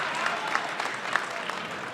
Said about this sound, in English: There's a big loud cheer for Bennett.